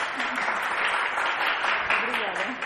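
An audience claps steadily at a breast cancer awareness event, the applause running continuously under someone speaking over it.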